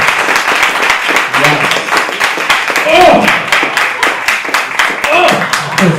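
An audience claps and applauds loudly and steadily for the servers and building staff at a live comedy show, with a voice calling out briefly over the clapping.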